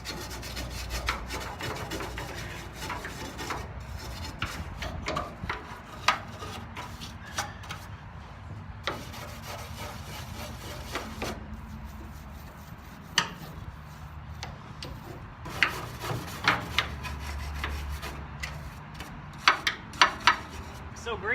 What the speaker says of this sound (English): I'm just gonna do some wire brushing. Try to break some of this grease loose.